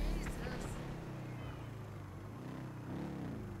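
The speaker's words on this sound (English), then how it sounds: "my cat is meowing" A house cat meows in a couple of faint, drawn-out cries over a low, engine-like hum, quiet in the background.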